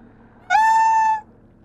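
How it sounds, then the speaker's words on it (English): A single clear cat meow from the creature in the Planet of Lana video game, a close, tonal cry lasting under a second over a quiet background. "It made cat noises."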